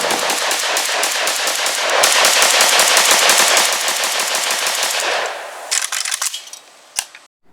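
An SA RPK light machine gun in its 5.56 version fires long, loud sustained bursts of rapid shots, then a few shorter bursts and single reports trail off into quiet at the end.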